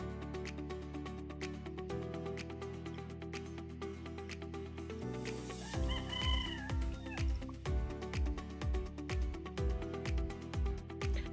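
Domestic chickens at a Filipino gamefowl farm cluck and call at dusk, around five in the evening, in repeated short bursts at close range over a steady background hum, with no talking.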